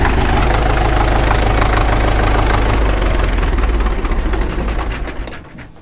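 A warmed-up Caterpillar 212 grader engine runs at a low idle, giving a loud, steady, close-up diesel throb with a knocking rhythm that eases off and fades in the final second.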